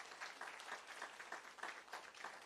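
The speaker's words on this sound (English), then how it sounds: "Would you give the panelists a huge round of applause?" Audience applause for book club panelists at a racial justice learning exchange event, steady clapping from a modest crowd heard at some distance, fairly faint, with no talking over it.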